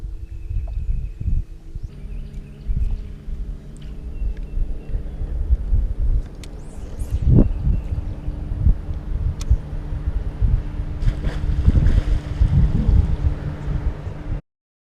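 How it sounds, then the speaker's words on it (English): A strong squall wind blows across open water, roaring and buffeting the microphone in continuous gusts with low rumbling and occasional rattles, no voices. "you could see the squall coming across the water. The wind was just incredible blowing."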